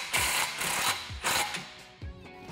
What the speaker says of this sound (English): now I'm gonna tighten up this clamp, get it nice and snug